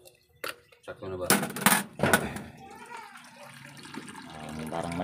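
Water rushes into a single-tub washing machine in uneven, splashing bursts up close, then settles into a softer, steady flow while people talk nearby.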